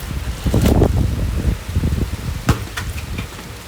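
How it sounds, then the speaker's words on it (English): Heavy sideways rain and gusting wind batter the microphone at an outdoor shooting competition, a steady rushing hiss broken by sharp thumps and crackles. "Raining sideways right now, Don."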